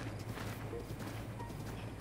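Horse hooves clip-clopping steadily across open ground in Breath of the Wild on the Great Plateau, a quiet, even walking rhythm with no talking.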